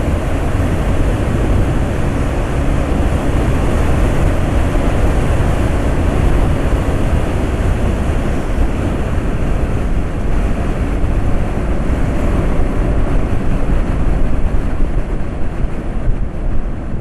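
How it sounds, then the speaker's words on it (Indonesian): Strong wind buffeting the microphone while riding a Honda motorcycle, a steady, loud, broadband roar that continues throughout with no break. "Wah, anginnya keras banget."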